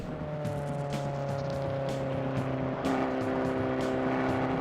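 Fiat Abarth 500 Cabriolet engine humming steadily from inside while driving, a moderate tonal drone with a brief rise in pitch and level partway through.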